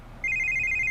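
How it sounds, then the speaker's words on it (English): A phone in the Vampire the Masquerade: Coteries of New York video game begins to ring with a bright electronic trill that pulses rapidly, starting abruptly over a low background hum. Nobody talks. "That's my phone."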